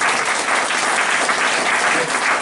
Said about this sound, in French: Applaudissons Jésus-Christ